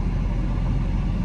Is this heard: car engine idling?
yes